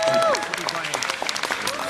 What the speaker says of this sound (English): how about a big round of applause for Kobe Bryant?